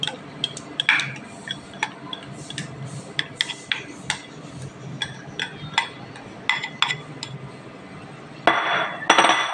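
A spoon clinks against a bowl while chicken macaroni salad is stirred with mayonnaise, sharp irregular taps and scrapes close up, ending in a brief louder rustle.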